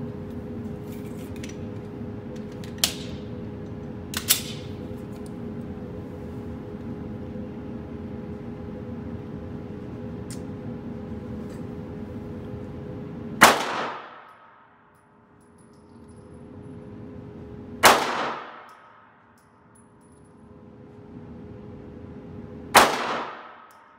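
Gunshots are fired at a target 75 feet away, three loud sharp reports spaced a few seconds apart with ringing decays. Fainter clicks and a steady background hum come before them.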